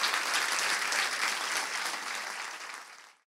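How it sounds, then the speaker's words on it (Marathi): Church congregation clapping in thanks to the Lord during a worship service, a dense steady burst of applause from many hands that fades out after about three seconds. "टाळ्या वाजून प्रभूला धन्यवाद देऊया."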